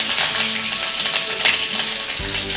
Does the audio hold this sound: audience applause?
no